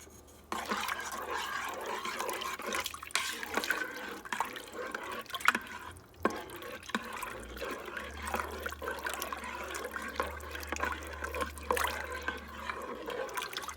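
Two cups of water are poured into a cooking pot, giving a continuous splashing trickle with scattered drips and small clinks. It is fairly quiet and nearby, with no speech.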